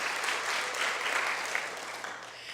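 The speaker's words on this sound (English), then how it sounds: "let's give it a round of applause" A live audience applauds at an International Women's Day panel event, steady dense clapping filling the room for a few seconds, with no talk over it.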